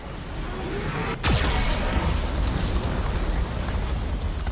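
A Geth cannon blast in Mass Effect 2 hits with a sudden sharp boom, followed by a loud, sustained rumbling roar of debris and noise that continues to the end.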